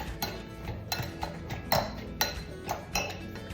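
Marinade with dark brown sugar stirred in a bowl, giving light clinks and taps of a utensil against the bowl in an uneven rhythm, close and fairly quiet.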